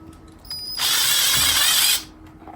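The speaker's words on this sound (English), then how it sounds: "I'm just going to drill a hole through the center here" A power drill whirs steadily for about a second, boring a hole through the center of a part, then stops; close and alone.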